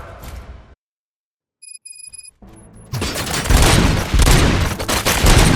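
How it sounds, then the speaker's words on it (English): After a brief silence and a few electronic beeps, rapid heavy gunfire erupts in the game RoboCop: Rogue City and continues loudly as a dense, chaotic barrage. "Gunshots? What's going on?"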